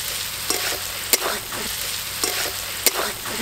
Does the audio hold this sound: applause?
no